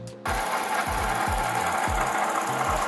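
A failing water pump on a 4th gen Lexus GS 350 makes a steady mechanical grinding drone. A rhythmic low thumping pulses through it about twice a second, close and loud, with no talking.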